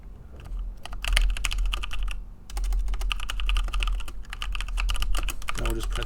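Rapid clattering keystrokes on a computer keyboard while coding in Vim, close and fairly loud, in quick uneven bursts with short pauses between them, and no voice over the typing.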